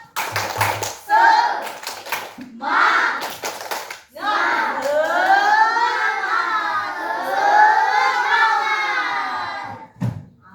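A group of children in an Indonesian classroom clap in rhythm and chant together loudly, with sharp claps at the start and end and a teacher's voice leading in between.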